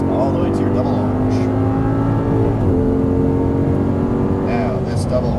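An Audi R8 accelerating hard on a race track, its engine droning loudly and steadily with a rising, slightly shifting pitch, close and continuous throughout.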